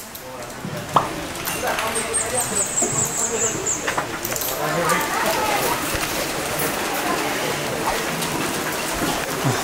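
Steady rain falls and patters on surfaces throughout at the Curug Kembar valley, with a brief bump near the start and a faint high whistle in the background.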